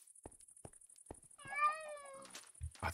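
A cat meows in the Minecraft video game: one drawn-out, wavering meow rises out of a sequence of soft, evenly spaced game clicks and footsteps, and a few short thumps follow it.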